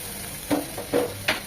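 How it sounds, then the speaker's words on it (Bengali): Ground spice paste mixed with water is sautéed in a pan for a hilsa and green banana curry, a continuous close sizzle with three distinct scraping stirs of a spatula. "মশলাটা খুব ভালোভাবে কষিয়ে নিয়ে দিয়ে দেবো কাঁচকলাটা"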